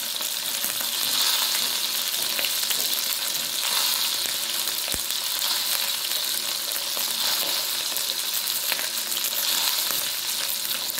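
Stuffed pomfret fish frying in a pan: a steady, even hiss and sizzle of hot oil throughout, close and fairly loud, with no talking.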